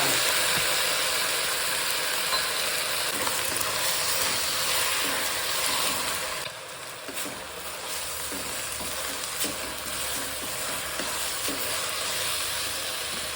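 Gongura leaves frying in a pan give a steady, close, broadband sizzle that persists throughout, with scattered soft stirring scrapes and a slight drop in intensity midway.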